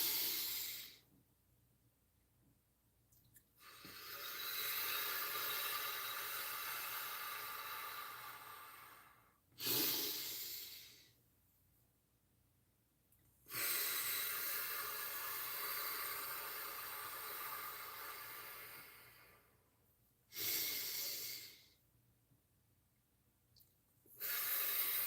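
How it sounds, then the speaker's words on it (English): Slow, deep breaths in and out during a guided breathing exercise, heard as long airy hisses separated by short pauses, close and fairly soft, with no talk. "So let's do 3 nice deep breaths."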